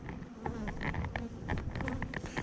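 Honey bees buzz around hives on a North Texas beekeeping site in winter, a close swarm of overlapping hums with individual bees passing near, moderately loud and steady.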